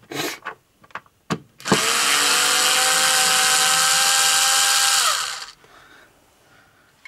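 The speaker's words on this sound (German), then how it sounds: "Also mal die Schrauben hier lösen." A power screwdriver loosens screws in a German home renovation, first a few sharp taps, then one steady whirring run of about four seconds that stops abruptly, with no talk.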